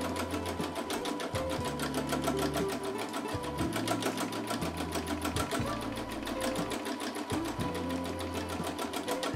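A sewing machine stitches free-motion stippling embroidery in a steady, fast, continuous whir of needle strokes, its motor pitch shifting slightly as the speed changes, close up with no talk.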